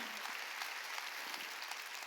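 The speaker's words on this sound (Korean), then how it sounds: "깨달았으면 박수치라고요" A church congregation at a New Year's Eve service applauds together, a steady, dense wash of clapping that holds at an even level for about two seconds with no voices standing out.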